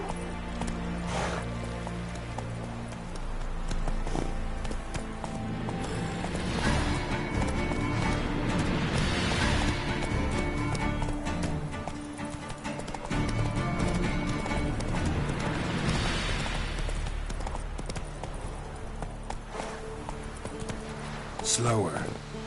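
Roach the horse trotting in the Witcher 3 video game, a continuous rhythmic clip-clop of hooves with game ambience, while someone talks over it throughout.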